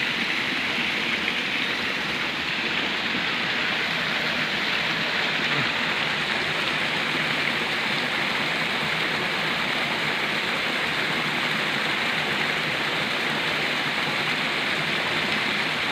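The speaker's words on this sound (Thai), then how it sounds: "โอ้ฝนตกลงมาเนี่ย" Steady, fairly loud rain pouring down on a forest campsite, a dense even hiss of drops on surfaces throughout with no talking.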